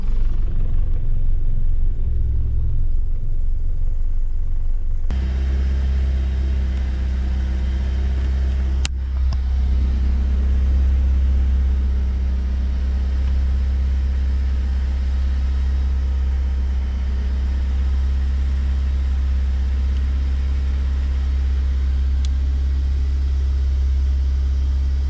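A BMW E36 Compact with the M43 four-cylinder engine idles while warming up, its steady low rumble running near and continuous after a brief quieter start, with one sharp click partway through and no talk.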